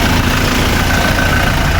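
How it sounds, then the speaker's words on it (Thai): A pickup truck's engine idles close by, a steady low mechanical hum with no revving and no talking. "ฟังเสียงเครื่อง"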